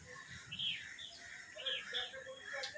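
Birds calling at Alipur zoo in Kolkata, where brown and white egrets are kept, with several short chirping calls rising over steady background murmur, moderately near and fairly faint.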